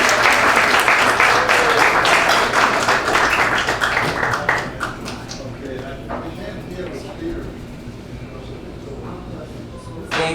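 An audience at a StoryCorps storytelling event applauds as a speaker takes the stage: dense clapping that starts loud and gradually thins and fades, with a voice starting up near the end.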